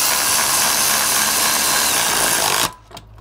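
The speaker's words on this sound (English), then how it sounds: "I'm just gonna use an electric ratchet to speed it up a little bit" Electric ratchet driving bolts into the rear brakes of a Porsche Cayenne, a loud, steady close whirring drone that runs continuously for over two seconds and then cuts off abruptly, leaving quiet.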